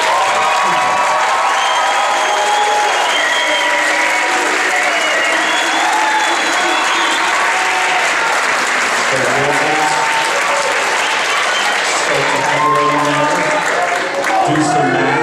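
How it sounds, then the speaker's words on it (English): Loud, sustained applause and cheering from a pageant audience, with whoops and shouted voices layered over steady clapping throughout. "we'd like a huge round of applause."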